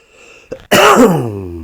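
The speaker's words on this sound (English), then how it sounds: "Do excuse my coughs." A single harsh cough bursts out after a faint catch in the throat, loud and close, trailing off with a raspy, voiced tail.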